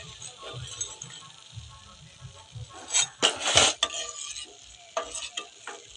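Papri dough crisps fry in hot oil for papri chaat, giving a soft, continuous sizzle under sharp clinks and scrapes of a utensil stirring in the pan, with a few louder bursts of clatter.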